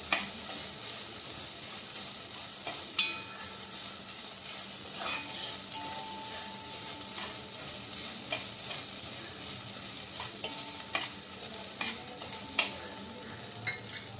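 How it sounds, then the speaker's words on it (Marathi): Grated coconut sautéing in a pan for coconut rice, a steady moderate sizzle broken by repeated sharp clicks and scrapes of a spatula stirring, with no one talking. "आता आपण थोडंसं खोबरं यामध्ये घातलं आहे ते छान परतून घेऊया"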